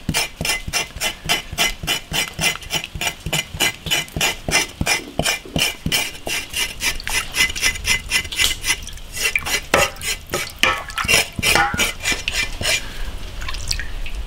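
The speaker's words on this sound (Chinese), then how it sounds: "用温热水把它刮洗干净" Smoked pork belly is scraped and scrubbed by hand in warm water in a wok, giving a steady run of rhythmic scraping strokes with splashing and dripping, close and clear with no talk.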